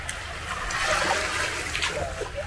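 Someone splashes into warm sea water while swimming at Boracay beach in the Philippines, a broad, rushing splash and churning water that stays loud and close for a couple of seconds, with no voices.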